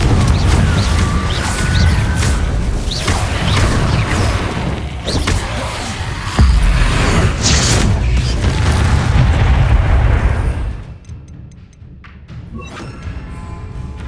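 Spell explosions from the Confringo spell in the video game Hogwarts Legacy boom repeatedly over dense game combat noise, loud and sustained before thinning out near the end.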